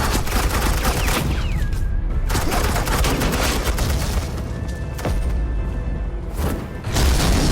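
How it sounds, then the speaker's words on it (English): Suppressing gunfire in the game Batman: The Enemy Within, a dense, continuous fusillade of rapid shots and booms that stays loud and close throughout, with brief whistling ricochet tones cutting through. "suppressing fire"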